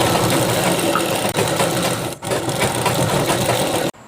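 A sewing machine stitches the folded bottom hem of a free-size chudidhar, running in a steady, loud, continuous whir with two brief pauses before it stops near the end.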